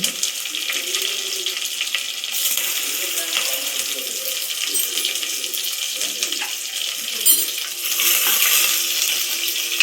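Green chillies hit hot oil in a frying pan while vangibath is cooked, producing a loud, close, continuous hissing sizzle that swells in bursts partway through and again near the end.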